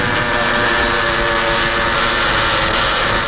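A race car engine idling and sputtering at the Biķernieki track in Latvia, a loud, close, continuous rough drone with uneven low-end pulsing, heard alone.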